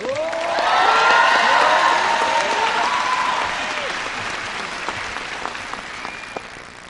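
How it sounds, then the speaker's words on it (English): Loud applause from a crowd at an air base, greeting airmen and soldiers, swelling early with a few whoops, then thinning into scattered claps, with a voice heard over it. "please give some applause to all the airmen and soldiers up here"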